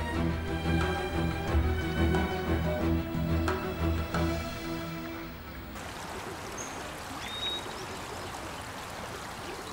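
Water flowing steadily at a spring, a continuous trickling and rushing stream that follows a stretch of music, heard up close with no voices.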